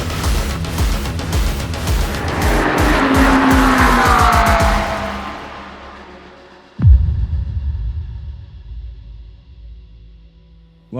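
Hypercar race cars during free practice at the Qatar endurance race, with a loud, close engine roar sweeping past and fading, then a sharp burst of another car passing near the end.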